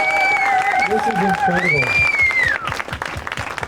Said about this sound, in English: Let us give a real rousing applause to our miracle workers.